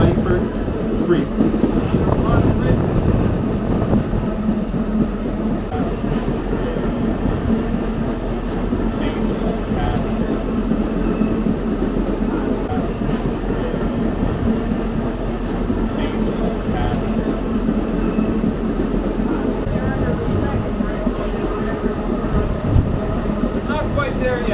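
A Lehigh Gorge Scenic Railway train rolls steadily over the tracks approaching the Hometown High Bridge, a constant loud rumble with faint rhythmic clatter under a narrator speaking throughout.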